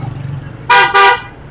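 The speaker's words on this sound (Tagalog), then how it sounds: "Wow, grabe naman yung busina na yun." A car horn sounds two loud, close honks in quick succession over faint road noise.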